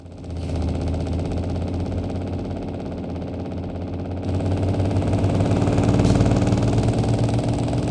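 Steady low truck engine rumble in a driving video game, BeamNG.drive, with a droning, throbbing tone that grows louder and rougher partway through as the engine brake engages, with no talking.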